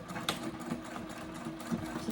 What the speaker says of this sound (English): this is how you top stitch the back piece